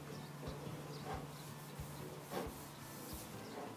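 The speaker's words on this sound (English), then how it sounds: "You're kind of using your clear wax to rub off the black wax." Clear wax being rubbed over black wax on chalk-painted wood, a soft, close scratchy rubbing with a few light strokes and taps, fairly quiet and without speech.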